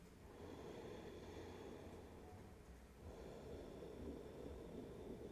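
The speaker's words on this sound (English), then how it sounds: "listening to that ocean sound of your breathing" Slow, deep yoga breaths through the nose, a soft rushing hiss like distant surf, close and quiet, rising and falling with each inhale and exhale.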